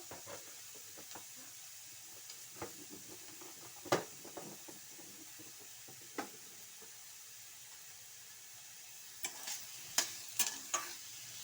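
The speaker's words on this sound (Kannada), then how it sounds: "ಹಾಕಿ ಒಂದ್ಸಲ ಎಲ್ಲವನ್ನು ಮಿಕ್ಸ್ ಮಾಡಿ" Radish palya being stirred in a pan, with soft scraping and clinks of the spoon against the pan at irregular moments over a faint background hiss of cooking.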